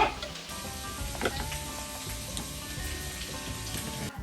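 Meatballs made from ground beef sizzle and fry steadily in a pan while being stirred, a continuous close crackling hiss with a few soft utensil clinks.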